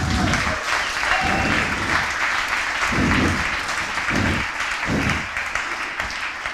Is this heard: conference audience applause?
yes